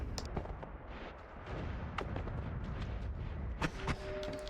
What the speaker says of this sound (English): We got him in that explosion